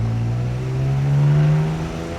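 A BMW 335i engine accelerates on a first test drive, its loud droning note climbing steadily in pitch from inside the car, then easing off at the end.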